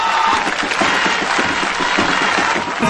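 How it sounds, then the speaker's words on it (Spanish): Crowd applauding steadily at a Partido Verde political rally in León, a dense wash of clapping held at constant loudness throughout, with a few scattered shouts in the mix. "para la que pido un minuto de aplauso en su memoria."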